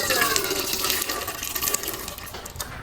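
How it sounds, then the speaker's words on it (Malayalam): Water is poured into a pressure cooker holding dal for a traditional Onam payasam, a continuous close splashing pour that softens slightly toward the end. "കുക്കറിലേക്ക് കുറച്ച് വെള്ളം ഇട്ടിട്ട് ഇട്ട് കൊടുക്കാം."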